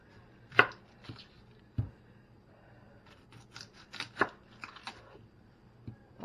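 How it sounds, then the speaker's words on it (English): A knife chops red onion on a board for an orzo pasta salad, giving a handful of sharp, irregular close knocks spread across quiet gaps, with no talking. "Okay, so what I'm going to add to it is some red onion."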